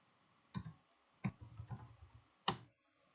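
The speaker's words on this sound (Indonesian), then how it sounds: "sekarang kita akan coba mengetikkan ipconfig renew" Computer keyboard typing as an ipconfig renew command is entered, a few quiet, close clicks in short bursts separated by pauses.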